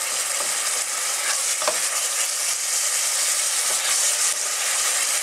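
Spoonfuls of garlic frying in a hot pan on the stove for a courgette and raisin chutney, with a loud, steady sizzle and hiss throughout and a few soft stirring scrapes.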